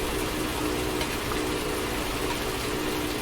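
A David Brown 990 tractor working on fertilizing duty, its engine a steady, loud, unbroken rumble close by with no change in pace.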